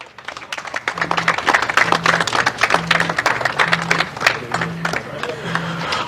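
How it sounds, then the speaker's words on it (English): Crowd in the pit lane at a Formula Winter Series race in Valencia applauds the top three podium finishers, steady dense clapping throughout, with a repeating low tone underneath. "I'd like everybody down there in the pit lane for a big round of applause"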